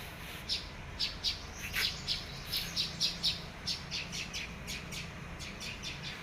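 Small birds chirp in quick, bright repeated calls, moderately close, with a quiet hum of background noise underneath.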